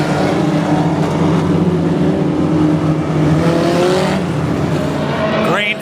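A pack of about a dozen race cars roars together at the start of a feature race, a loud, sustained engine drone with rising pitch sweeps near the end as cars accelerate past.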